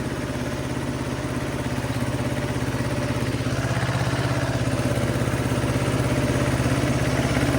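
A tractor engine idles steadily nearby, a low rumbling drone with a fast, even chugging pulse that continues without a break.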